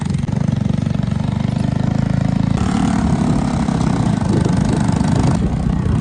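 Steady, loud motorbike engine drone throughout as the bike is ridden, with a slight shift in tone partway through and no talking.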